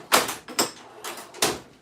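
A drawer slides open in a tool workshop, giving several quick scraping rasps in an uneven rhythm, close and fairly loud, with no talking.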